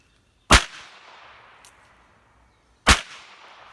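Two sharp, loud gunshots from an Owl Head revolver, spaced a couple of seconds apart outdoors, each a sudden crack followed by a short fading echo.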